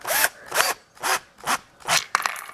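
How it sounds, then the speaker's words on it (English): A power drill bores a hole for homemade spring shoes in five rhythmic bursts of rough grinding and rubbing, each about a third of a second with short pauses between, close and loud with no talk. "So I'm going to go ahead and drill a hole"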